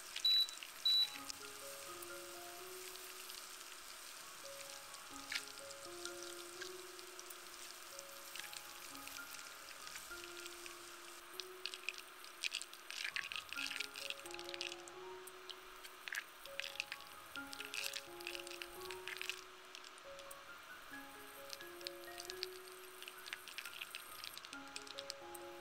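Butter simmering in a pan over medium-low heat while browning for financiers: a soft, steady bubbling sizzle with small pops and crackles, quiet and close, with no talking.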